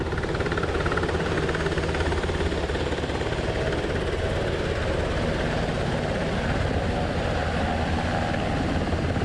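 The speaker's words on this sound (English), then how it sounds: "this is a helicopter from the Coast Guard transporting the first 2 survivors from a mishap involving 2 FA-18 Super Hornets" A Coast Guard helicopter flies in carrying crash survivors, giving a steady, dense rotor and engine roar that stays loud and unbroken throughout.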